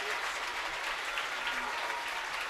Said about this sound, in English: That's Steckbauer getting a big round of applause